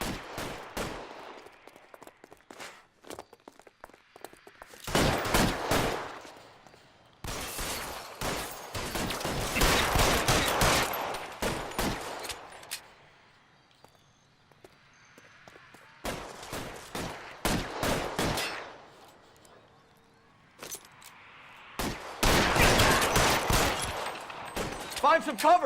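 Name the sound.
gunshots in a shootout in L.A. Noire video game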